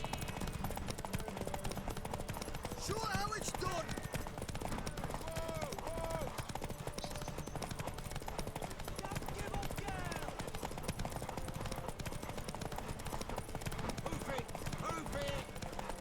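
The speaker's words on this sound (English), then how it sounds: "I've always enjoyed the sound of just horses running." Horse hooves clip-clop in a fast, continuous galloping rhythm during a race in The Witcher 3: Wild Hunt, over a steady background roar, with a voice speaking briefly.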